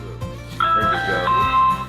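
An electronic doorbell at an outdoor camp chimes a short melodic tune of clear tones, heard close with a steady background hum and faint voices around it.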